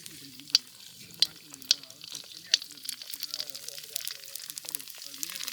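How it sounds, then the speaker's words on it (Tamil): Pani puri dough discs frying in moderately hot oil, a soft crackling sizzle with a few sharp pops early on, then a denser bubbling hiss toward the end, fairly quiet. "பானிபூரி வந்து இப்போ போட்டு பொரிச்சிக்கலாம்."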